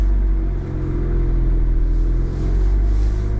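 A Suzuki Alto Works small car pulls off in first gear, its engine giving a steady, loud low rumble from inside the cabin that rises gently with a brief dip.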